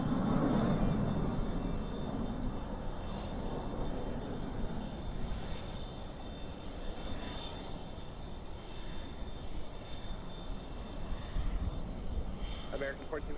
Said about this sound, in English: American 1458, RNAV depart, runway 1 left, clear for takeoff. And there it is up in the air.